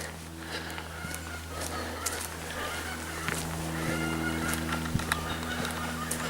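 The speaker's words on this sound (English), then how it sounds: "And that's a hen laying an egg, I think." A hen clucks in short bursts after laying an egg, at moderate distance over a faint, breezy outdoor background, with a few sharper calls rising later.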